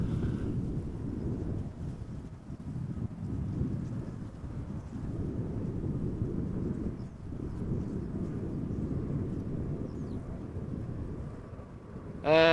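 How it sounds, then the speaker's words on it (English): A Boeing 787 Dreamliner approaches to land at Amsterdam Schiphol in a crosswind, a steady, moderately faint low rumble of engines and wind that persists throughout with no talking. "the Dreamliner is definitely combating a little bit of crosswind"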